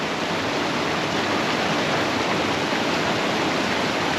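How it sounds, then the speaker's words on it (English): Water rushes in a steady, even hiss that does not let up, a stream flowing close by at night in Glenlough, Donegal, with no voices. "that lovely sound of the water passing by"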